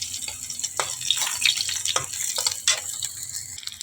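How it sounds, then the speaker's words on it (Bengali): Bitter gourd frying in oil in a wok, a moderate crackling sizzle with repeated sharp taps and scrapes of a spatula stirring, close and steady without talk. "উচ্ছাটাও ভাজা হয়ে এসছে লাল করে"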